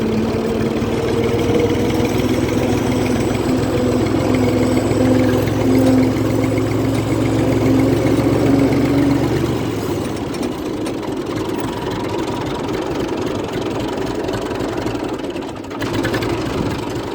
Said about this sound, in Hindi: और ये हमारा ट्रैक्टर जा रहा है आगे